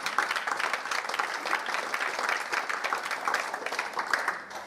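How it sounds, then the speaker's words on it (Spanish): A church congregation applauds together during a Spanish-language afternoon worship service, a dense, steady crowd clapping sustained for several seconds at moderate loudness, easing slightly at the end. "démosle un aplauso al Señor en esta tarde"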